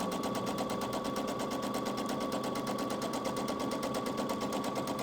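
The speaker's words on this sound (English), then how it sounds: "I'm just doing a 1/4 inch straight stitch." A sewing machine runs a quarter-inch straight stitch on a quilt block, a fast, even, rapid-fire clatter that keeps up steadily and fairly quietly with no pauses.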